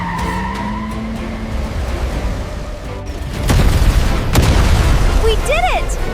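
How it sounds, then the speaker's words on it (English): A machine core explodes in a 3D animated cartoon, a heavy booming blast with rumbling debris following a tonal whine and skidding noises, with brief character voices nearby. "It's about to explode!"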